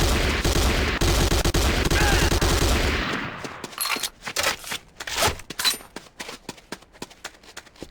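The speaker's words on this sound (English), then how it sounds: "The next weapon is the Corbretti AR-70 Raptor automatic rifle." Corbretti AR-70 Raptor automatic rifle firing in the Command & Conquer Renegade tutorial mission: a loud, dense sustained burst for about three seconds, then a run of separate sharp shots with short gaps.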